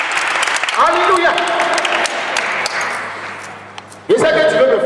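Audience applause and cheering fill a live Christmas gospel concert, dense clapping sustained throughout with a brief dip before surging again, while someone speaks over the crowd.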